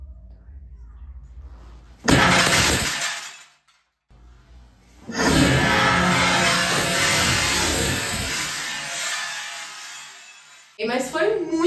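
Glass shatters loudly after a stone is thrown, a sudden burst followed by a long sustained crash and tinkling debris, close and dominant, with a short crash again near the end.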